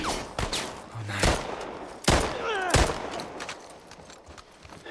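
Rifle gunfire in The Last of Us Part 1 video game, a few sharp loud shots spaced across the moment amid ambient game noise, with faint voices briefly audible.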